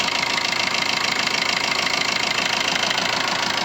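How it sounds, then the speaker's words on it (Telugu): A 2012 Maruti Suzuki Ertiga VDI diesel engine idles with a steady, even drone and a fine regular low pulse, close and constant throughout with no change in revs. "ఇంజన్ అయితే సౌండ్ అయితే ఏం లేదు ఫ్రెండ్స్."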